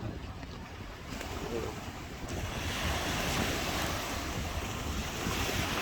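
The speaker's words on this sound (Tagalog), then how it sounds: "ngayon, malakas pa rin ang alon" Steady roar of ocean surf with gusting wind buffeting the microphone, loud and continuous with no pauses.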